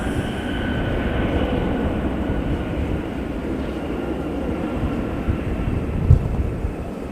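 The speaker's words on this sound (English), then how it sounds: "That's our first Qantas of the day." A Qantas airliner gives a continuous, loud, low rumbling roar, like a jet passing fairly close overhead. A brief thump comes near the end. No one speaks.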